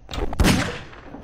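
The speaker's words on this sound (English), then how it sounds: "so they can hear a gunshot." A gunshot from the video game Garry's Mod booms with a loud, broad blast and a short rumbling decay, heard alone without talk.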